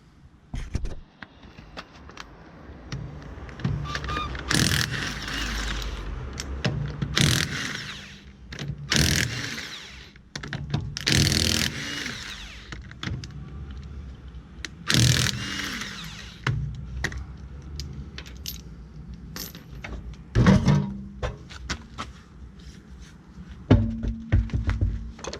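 A rear right car wheel is taken off during a brake job, with a run of ratcheting and mechanical clicks, metallic clanks and thuds from tools and parts, loud and close, in irregular bursts and no talk.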